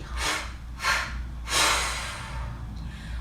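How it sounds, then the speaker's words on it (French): Three audible exhales during a heart-opening yoga breathing sequence, each a soft, breathy rush of air. They come at an even pace, with the last one longest and strongest, and no talking over them. "On expire."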